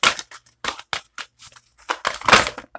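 Tarot cards with words taped onto them are shuffled by hand in a quick series of crisp, papery riffles and snaps, close and distinct, with brief pauses between bursts and no talking.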